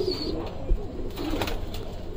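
A pigeon among female pigeons gives a soft, brief coo close by over a steady background hum.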